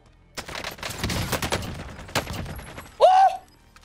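Gunfire cracks in a Warzone battle royale match, a few close sharp shots followed by a rattling burst, then a brief high ringing tone near the end, with no voices.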